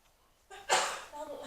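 A woman sneezes once, a sudden loud burst close to the microphone that trails off into a brief breathy tail, with a quiet room before it.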